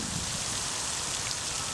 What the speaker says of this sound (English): No, it's the rain system.